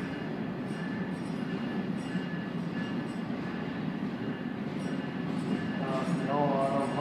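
Westbound train pulling out of Oakville station, with GO Transit MP40 and CN EMD diesel locomotives in the area; a steady broad rumble of rolling stock holds throughout, with faint whining tones rising near the end as it moves off.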